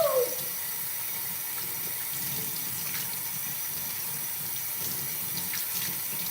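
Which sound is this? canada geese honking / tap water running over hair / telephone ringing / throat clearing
tap water running over hair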